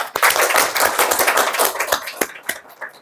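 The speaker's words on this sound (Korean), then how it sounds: "오늘 강연해 주실 이규호 국장님을 큰 박수로 환영해 주시기 바랍니다" Audience applause welcoming a senior government official to the stage at a university seminar on development aid, dense clapping from a roomful of people that thins into a few scattered claps toward the end.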